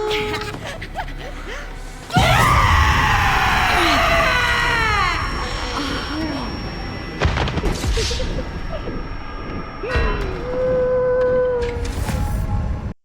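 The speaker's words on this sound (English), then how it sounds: "This stupid singing lady that will kill you by screaming at you." A screaming, singing female enemy in the survival horror game Resident Evil Requiem lets out loud, sustained, wavering shrieks over booming, crashing game sounds, with a pause and further eerie tones afterward.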